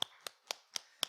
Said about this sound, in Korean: 우리 박수 한번 할까요?